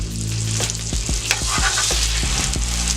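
Salmon fillets sizzling on garlic butter on a Steelmade flat top griddle, a loud close hiss with soft thumps and taps as the fish goes down, over a low steady hum.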